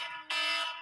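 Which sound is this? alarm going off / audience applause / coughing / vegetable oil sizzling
alarm going off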